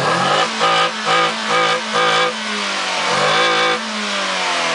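A Chevrolet Corsa engine is revved hard in short repeated bursts, about five quick blips, then one longer, steadier rev. The sound is loud, close and raspy, with no talking over it.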